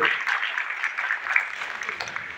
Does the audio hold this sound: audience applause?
yes